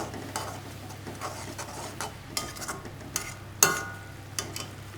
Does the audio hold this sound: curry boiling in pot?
yes